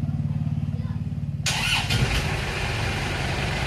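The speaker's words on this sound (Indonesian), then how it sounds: "Sekarang kita nyalakan mesinnya lagi" An Isuzu Panther diesel engine starting up: a rhythmic cranking chug for over a second, then the engine catches into a louder, rough steady idle, close by with a voice speaking briefly over it.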